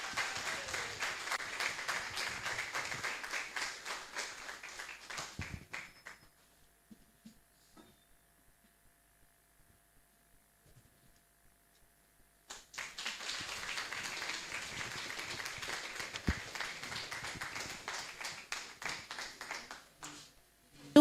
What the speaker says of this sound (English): Please, a round of applause as they come to...